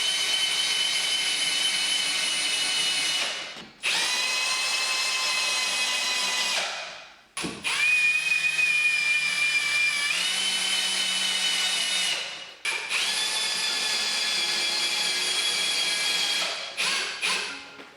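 A power drill driving screws into Corefix fixings in a dot and dab plasterboard wall for a shelf, with a loud, steady motor whine in several long bursts cut by brief stops.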